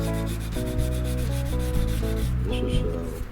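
Sandpaper, about 150 grit and half worn out, is wrapped around a stick and rubbed in short, steady back-and-forth strokes over a wooden .410 garden gun stock, smoothing chisel marks close up.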